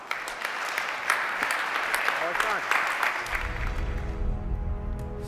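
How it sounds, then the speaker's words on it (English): Conference audience gives moderate, fairly close applause for several seconds while a voice talks over it, and a low rumble takes over after about three seconds. "So, big applause for Alexandre de Rothschild."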